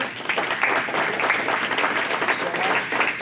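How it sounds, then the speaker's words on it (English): Audience applause for panelists at the close of an evening community panel on retail in Fairfax City, a steady burst of many hands clapping at close range, full and even across the moment. "Round of applause for our panelists here."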